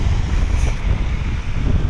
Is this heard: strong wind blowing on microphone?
yes